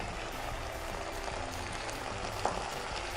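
Ginger garlic paste and turmeric fry in hot oil for an Andhra-style betel leaf chicken fry, a soft, steady sizzle heard faintly and up close, with one small clink midway and no voices.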